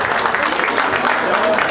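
An audience at a chocolate fair applauds master chocolatier Emmanuel Servant of Marseillan. Steady, dense clapping fills the whole brief moment at close range, with voices mixed in.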